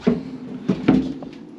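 A drawer in a Coachman Laser 545 Xtra 2023 caravan slides open, giving a few short, close knocks and clicks of the runners and a soft thud as it reaches full extension.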